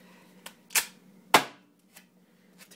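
Duct tape ripped off the roll in a few sharp, close tearing bursts with short pauses between, used to tape down a bottle rocket for a homemade airsoft grenade, no talking.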